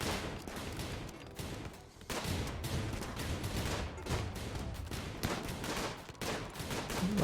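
Autocannon fire in the video game RimWorld, a dense, sustained burst of rapid gunshots with a short pause around two seconds before the volley resumes at full loudness.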